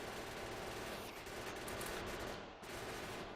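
Gun turrets in the video game Factorio firing at biters, a dense continuous rattle of distant automatic fire blended into a muffled, roaring wash, faint and unbroken, with no talk.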